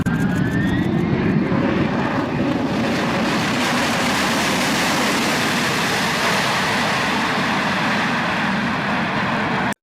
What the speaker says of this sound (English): This plane was landing on a super short runway.